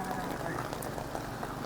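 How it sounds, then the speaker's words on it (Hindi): Steady rain falls around a group visiting an 800-year-old university in Vietnam, a dense continuous hiss with a broad wash of patter, fairly close and even throughout, with voices faintly mixed in. "बारिश में आ गए हैं, कुछ नहीं दिख रहा है मेरे को तो भाई।"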